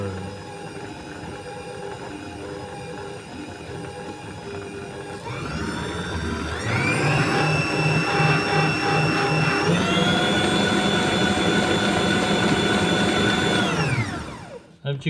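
An electric mixer whips almond cream, running steadily then jumping to a higher, louder whine for several seconds before winding down and stopping.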